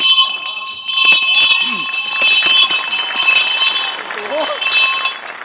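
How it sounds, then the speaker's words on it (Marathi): A theatre bell rings before a stage announcement, bright repeated metallic tones ringing out steadily over lively talk and crowd noise. "हा जो शशी कपूर ठेवलाय ना बेल द्यायला"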